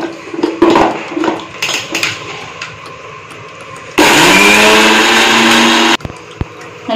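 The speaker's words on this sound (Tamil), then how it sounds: "நம்ம சின்ன ஜார்ல மிக்ஸில இந்த மல்லி எல்லாம் ஆட் பண்ணிடலாம்" A small-jar mixer grinder powders roasted coriander and Kashmiri chilies, a loud whirring burst of about two seconds that follows clattering as the jar is handled.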